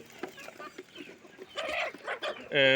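Native chickens kept in a small enclosure cluck and cackle close by in short irregular calls, with a louder squawk at the end.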